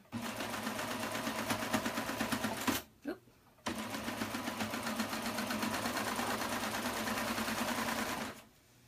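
A serger sewing machine runs fast and steady while feeding elastic and fabric, with a whirring rhythmic stitch close by, stopping briefly before starting again, with a voice talking over it.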